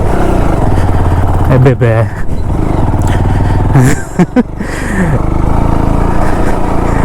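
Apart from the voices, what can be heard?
motorcycle engine straining uphill in gear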